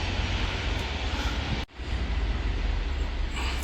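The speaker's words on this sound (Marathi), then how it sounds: "ते बघा, तिथून रेल्वे चालली आहे." A train passes Karjat railway station amid suburban rail construction work, a loud, steady broadband rumble that fills the whole clip with one brief dropout near the middle.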